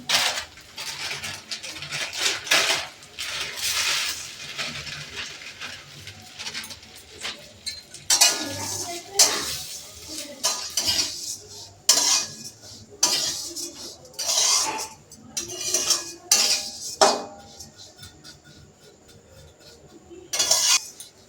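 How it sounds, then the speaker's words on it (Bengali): Vermicelli is fried and stirred in a pan, a spoon repeatedly scraping and clinking against the metal in irregular bursts with brief pauses, moderately close and without talk. "সেমাইটা দিয়ে দেবো। সেমাইটা ভেজে একটু ভেজে নেবো।"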